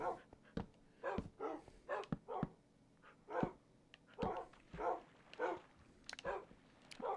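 Tamed wolf dogs in Minecraft on Xbox One bark repeatedly in quick, irregular bursts, fairly faint and a little distant, with a few yips mixed in and no talking.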